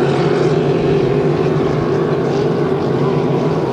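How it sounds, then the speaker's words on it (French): Hydroplane racing boat engine droning steadily at a distance as it heads back toward the pits, a continuous loud motor hum with no talk. "On entend le moteur et il va regagner les puits."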